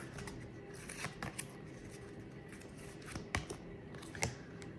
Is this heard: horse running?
no